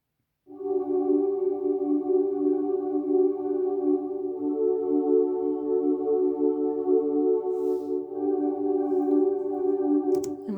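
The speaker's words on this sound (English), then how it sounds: "And then the final one was this warm synth pad," A warm synth pad holds a sustained, layered chord that swells in quickly and stays steady and loud for about ten seconds, heard alone with no voices.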